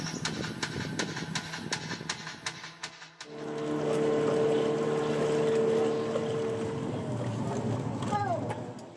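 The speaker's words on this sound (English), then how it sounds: "The next morning we're back in the boat to go to Fort Island." A boat carries passengers toward Fort Island in former Dutch Guiana, its engine droning loud and steady with wind and water noise, after a stretch of rapid clicking and rattling at the start.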